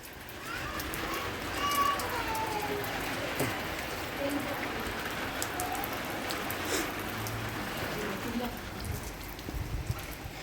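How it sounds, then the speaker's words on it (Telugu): Rain keeps up a soft, even hiss indoors at a house during a power cut, with scattered drops and faint background voices and movement underneath. "మళ్ళీ వర్షం"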